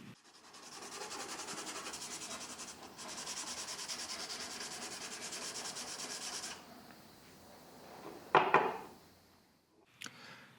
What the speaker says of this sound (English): I roughen up the backside with sandpaper to give the epoxy a rough surface to adhere to